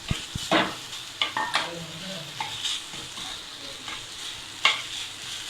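Cooked rice is stirred into a hot pan with cumin and sautéed aromatics, a spoon scraping and tapping in uneven strokes over a steady low sizzle, close and moderately quiet, with no talk.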